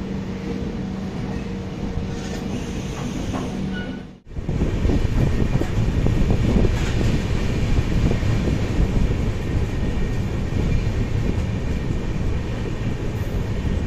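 Howrah–SMVT Bengaluru SF Express pulling into Palasa in Andhra Pradesh: a continuous rail rumble with a sharp break and dip, then a louder, denser clatter of wheels and carriages that holds steady.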